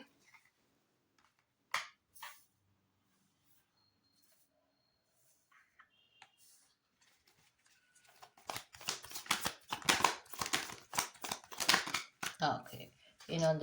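Tarot cards being shuffled, a few sparse riffles early on, then a long run of rapid, crisp card flicks in the second half, close and fairly loud, with no talking.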